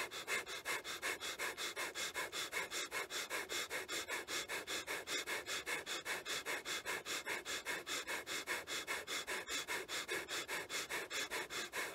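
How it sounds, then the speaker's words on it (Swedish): Forceful, rapid breathing in and out through the nose during a breath-of-fire exercise: steady, evenly spaced sniffing pulses repeat for the whole stretch, close and loud, with no talking. "Och börja andas kraftfullt in och ut genom näsan."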